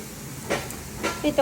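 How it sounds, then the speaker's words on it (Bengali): Food fries on an old flat griddle pan at home, batter lentil fritters and potato fries sizzling under a steady hiss, with a few short scraping stirs rising above it. "পাঁচ সাত মিনিট ভাজবো এগুলো"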